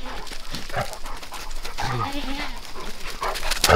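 Farm dogs out in the yard bark and yip close by, with short whimpering sounds mixed in, while people talk over them.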